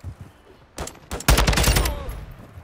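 Gunfire rattles in the video game Call of Duty: Modern Warfare II, a couple of short bursts followed by a loud, rapid automatic volley that trails off, close and sharp.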